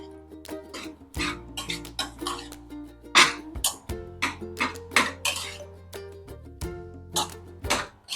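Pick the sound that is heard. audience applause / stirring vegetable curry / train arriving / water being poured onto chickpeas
stirring vegetable curry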